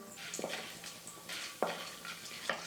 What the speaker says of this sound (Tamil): எண்ணெய் நல்லா சூடேறினதும் கடுகு கொஞ்சம் சேர்த்துக்கிறேன்